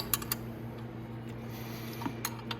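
Chain adjuster on a Venom E-Racer 1000W electric ATV being tightened: faint light ratcheting clicks and small metallic ticks over a low steady hum, close and quiet.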